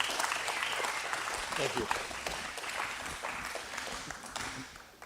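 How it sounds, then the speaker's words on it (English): An audience at a county 4-H fair public speaking event claps continuously and fairly loudly, a dense even wash of applause that tapers slightly at the end, with a brief spoken thanks over it. "So clap for everyone before we even get started"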